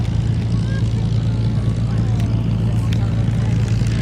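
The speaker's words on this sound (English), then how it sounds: "Into land is Dave Ratcliffe in the Spitfire 1A" A Supermarine Spitfire 1A comes in to land at the Duxford airshow, a steady low propeller engine drone under a commentator's voice.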